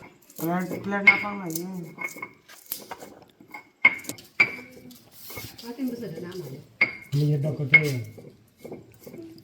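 Oranges being cut and prepared for a spicy salted village recipe, with knives and utensils clinking against dishes in sharp, scattered taps while a person speaks over most of the sounds.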